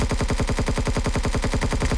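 Rapid automatic gunfire from an Empyrion Galactic Survival player shooting while falling, a steady loud stream of evenly spaced shots throughout with no talking.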